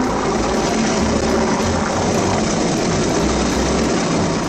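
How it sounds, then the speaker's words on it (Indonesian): A loud, continuous patrol helicopter drone fills the air, a dense engine roar with a low rhythmic throb from the rotors, steady and close. "Ini ada helikopter patroli."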